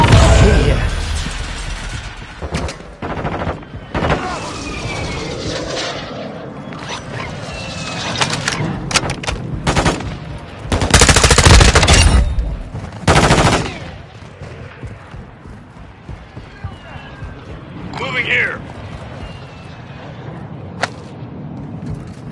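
Gunfire in DMZ cracks out in loud, rapid bursts and scattered single shots, some close and some distant, with the heaviest volley near the middle and quieter shots trailing off afterward.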